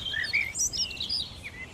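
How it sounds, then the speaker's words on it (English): A blackbird sings faintly far in the background on a morning in a UK city, its short high chirps and warbled phrases coming in scattered bursts over a low, steady ambient hum. "And in the very background I can hear a blackbird."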